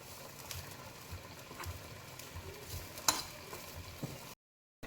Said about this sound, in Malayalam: പ്രത്യേക തേങ്ങ വറുക്കുക കേട്ടോ